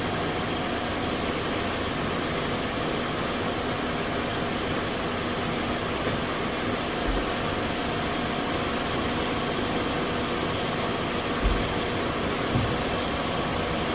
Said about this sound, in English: You can hear the compressor is working.